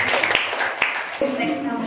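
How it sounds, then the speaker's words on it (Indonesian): A classroom of students claps after a group presents its conclusion on periodic properties of elements, a dense burst of applause close by, with voices talking over it and a few sharper individual claps. "Tepuk tangan dulu pokoknya"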